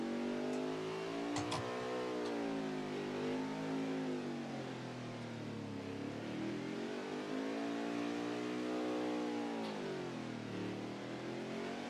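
A race car engine in a racing video game accelerates, its revs climbing and dipping in long continuous sweeps, loud and steady throughout with no voices.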